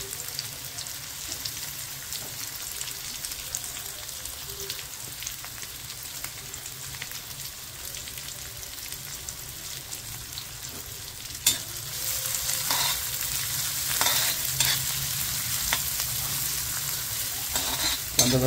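Medium-chopped onion sautés in a pan for Kolambi Sukka, a Maharashtrian prawn masala, with a steady soft sizzle; after about eleven seconds, stirring makes it louder and brighter, with occasional clicks of a utensil.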